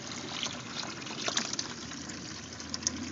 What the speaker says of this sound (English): they start to drain very nicely